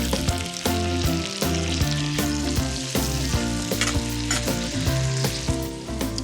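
Lentils sizzle loudly in a hot pan with pancetta and apples, a dense close crackle with stirring scrapes and no voices.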